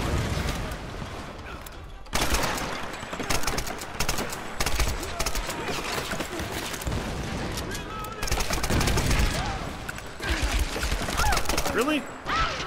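Gunfire and grenade blasts in the Tomb Raider (2013) video game's monastery battle, rapid bursts of shots and loud impacts throughout, near and intense.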